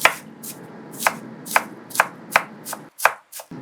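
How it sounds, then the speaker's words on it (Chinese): A knife dices peeled water chestnuts into small pieces on a cutting board, with about nine crisp, evenly spaced chops, close and clear with no talking. "最后把马蹄切成粒状。"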